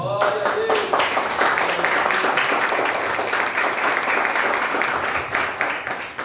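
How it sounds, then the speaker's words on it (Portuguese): A church congregation claps together in applause during a worship service, steady dense hand clapping filling the room for several seconds with a few voices mixed in. "Vamos aplaudir o Senhor com alegria?"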